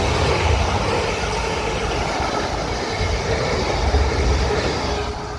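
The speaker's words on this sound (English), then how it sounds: "We have a South Western service bound for London Waterloo." A South Western Railway passenger train bound for London Waterloo runs past at Raynes Park on the South West Main Line, a steady, fairly close rumble of wheels and carriages that holds throughout with no voices.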